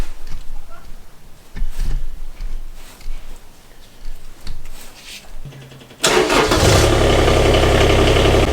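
A Kubota mini excavator's diesel engine cranks and catches, jumping to a loud steady close-up idle after several seconds of quieter clunks and handling noises.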